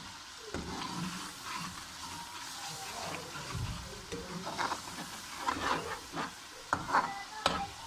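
Chillies and spices fry in a pan for a chickpea curry, a soft crackling sizzle broken by clinks and scrapes of stirring that get busier toward the end, fairly quiet and close.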